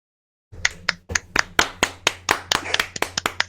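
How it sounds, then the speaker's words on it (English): A small group on an online call clapping unevenly, sharp close hand claps starting after a brief silence and continuing in an irregular patter with a low steady hum beneath. "Can everybody unmute themselves and we'll have a round of applause?"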